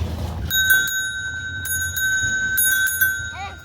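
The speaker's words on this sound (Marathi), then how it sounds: "हे का हे स्टँड आणि ही इथे घंटी" A child's bicycle bell rings in a quick series of bright metallic dings, close and loud, with low background rumble and a brief voice at the end.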